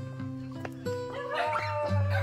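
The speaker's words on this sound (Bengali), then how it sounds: "ছোট কুকুর ঘেউ ঘেউ করছে, ওকে দেখে।" A young puppy near a hillside temple entrance in Uttarakhand, in light rain, lets out a series of thin, high-pitched yips and whimpering barks, close by, with a few quick calls in a row.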